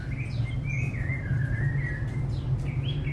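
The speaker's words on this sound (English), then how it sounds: "You hear their bird calls there." Savanna birds in a zoo aviary give repeated chirps and calls over a steady low background hum, fairly close and clear with no talking.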